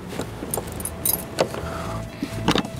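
Keys jangle and click in a lock while a garage door is opened, with sharp metallic rattles and scrapes in a few short bursts at close range, no talk.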